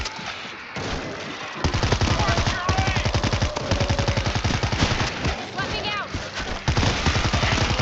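Automatic machine gun fire rattles in the zombie shooter game World War Z, with rapid bursts of close, loud shots repeating throughout, mixed with game noise and occasional voices.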